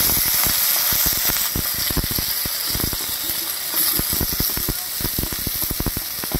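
Cleaned fish sizzle and fry in hot oil in a wok, a loud, steady crackling hiss with dense popping spatters throughout, no voices.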